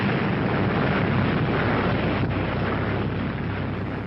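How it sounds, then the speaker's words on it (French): Archival 1945 atomic bomb explosion over Hiroshima: a dense, sustained roaring rumble with steady broadband blast noise and heavy low end, loud throughout with no talk. "1945, les États-Unis viennent de larguer la toute première bombe atomique sur Hiroshima."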